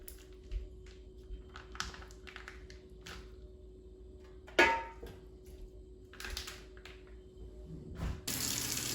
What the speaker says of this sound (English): I'm going to drain the water because you don't want the liquid in the air fryer.